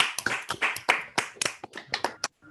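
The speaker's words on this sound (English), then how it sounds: "you can temporarily unmute yourself if you want to clap physically" Applause from a few pairs of hands at a superstring summer school session, quick uneven claps with a thin, compressed quality, as if coming through a call connection.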